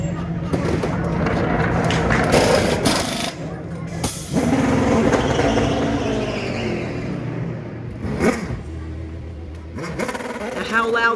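Race cars on pit road at the Rolex 24 endurance race: loud engines rev and idle close by in bursts and surges, with sharp blips, while people talk over the noise.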